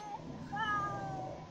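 A cat in The Sims 4 gives a short, faint, wavering meow, a brief plaintive cry over soft game background ambience.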